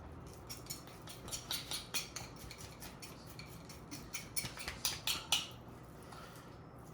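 A knife works along the bone of a raw chicken, giving quiet, irregular scraping and clicking cuts, several small taps and slices clustered together at close range, with no talk over them.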